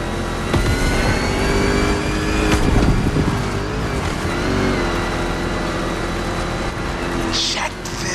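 Rally-raid-prepped Ford Mustang GT racing in The Crew Motorfest, its engine droning and revving steadily throughout with a rising surge near the middle, loud and continuous under game sounds.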